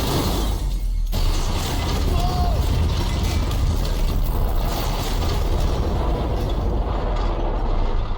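A train rumbles and clatters steadily, loud and constant, with a low mechanical roar that swells slightly after a brief dip at the start.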